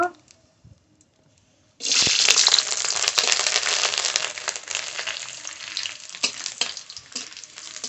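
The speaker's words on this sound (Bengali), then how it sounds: "তেল, ওটা রাঁধুনি ফোড়ন দেব।" Radhuni seeds hit hot oil in a pan and burst into a loud, close crackling sizzle after a near-silent pause, then keep popping and hissing steadily.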